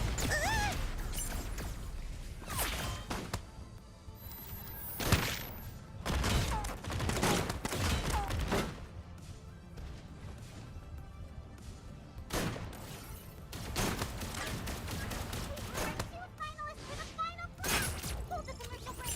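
Gunfire in the mecha shooter game Super Mecha Champions, with repeated bursts of shots and impacts recurring throughout at fairly steady loudness while a person talks over the action.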